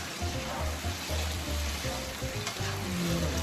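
Beef sizzles in a hot pan as Sichuan pepper and black pepper are stirred through. A loud, continuous frying hiss runs with quick stirring, over a low steady tonal hum.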